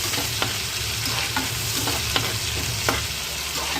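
Steady, dense sizzling of coriander leaves sautéing in oil, with occasional light clicks of a utensil stirring the pan; no voices.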